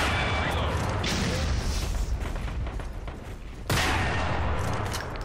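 Dense, continuous gunfire and booming blasts in the video game Metro Conflict rattle on for several seconds, with a sudden sharp burst near the end.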